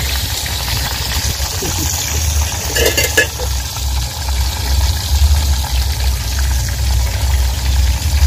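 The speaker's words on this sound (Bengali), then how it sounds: "এখন এটাকে ভাজা হবে।" A piece of bhola fish frying in oil, a steady close sizzle with light clinks and stirring, under a constant low hum of background noise.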